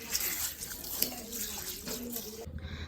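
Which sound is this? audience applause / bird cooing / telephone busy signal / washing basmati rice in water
washing basmati rice in water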